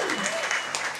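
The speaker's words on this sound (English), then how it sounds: "Round of applause for Paris." Studio audience applause on a music quiz show, a brief steady burst of clapping with a voice talking faintly over it.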